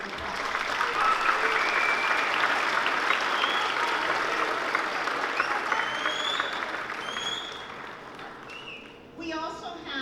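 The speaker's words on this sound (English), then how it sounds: "Give them a round of applause." Audience at a 7th grade spring band concert applauds the student performers, a dense steady clapping that gradually thins and fades near the end, with a few brief voices.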